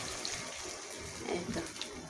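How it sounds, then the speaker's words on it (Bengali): A little water is poured into chicken pulao cooking in a pot, a faint steady trickling stream lasting about two seconds. "আমি অল্প পানি অ্যাড করে দিব।"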